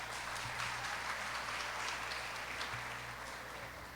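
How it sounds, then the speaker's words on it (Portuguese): Church congregation applauding during a service, a faint, distant wash of clapping spread evenly across the room, with a steady hum beneath it. "então você pode aplaudir o Senhor pela vida da Fátima"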